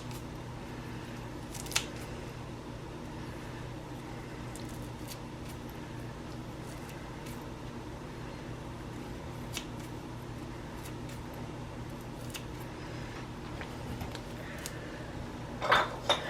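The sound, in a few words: multi-blade herb scissors cutting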